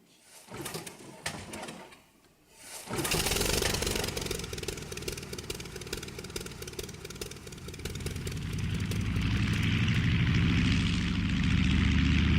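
A propeller aircraft engine starts up as a stage sound effect in a community theatre play, the motor catching after a brief pause and then droning loudly and steadily, growing in intensity.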